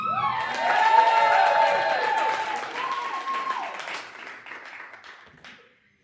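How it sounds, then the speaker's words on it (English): Stand-up comedy audience clapping and cheering after a performer is introduced, a moderate burst of applause that swells, then gradually thins and fades out over several seconds. "And if you could all give a round of applause for Ian McCoy."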